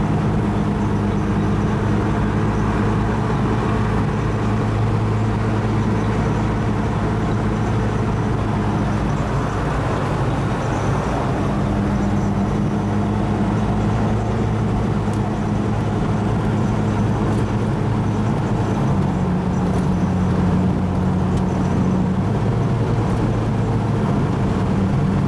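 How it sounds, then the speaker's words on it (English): A 2002 Jeep Wrangler with a 4.0 six-cylinder engine drives on a road in traffic, with a loud, steady cabin drone of engine and road noise that stays unbroken throughout. "Traffic."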